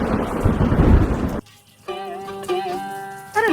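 Heavy rain with thunder roars loudly for about a second and a half, then cuts off abruptly, followed by quieter tonal sounds and hum.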